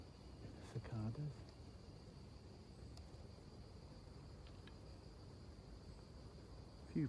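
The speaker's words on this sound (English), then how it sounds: "Cicadas." Cicadas drone on the Portuguese countryside at night, a faint, steady high buzz holding throughout, with a few brief bits of nearby speech.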